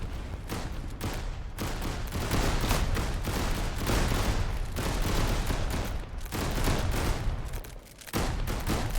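Dense, continuous gunfire crackles without pause, overlapping volleys and rapid bursts forming a loud, sustained barrage.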